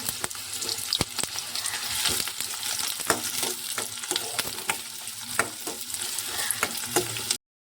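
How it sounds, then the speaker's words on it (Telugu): Onions and green chilies with a bay leaf fry steadily in hot oil for a mutton gravy curry, a dense close sizzle broken by regular scraping stirs and a few sharp clicks, with no voices. "ఉల్లిపాయలు అయితే వేగిపోయాయి"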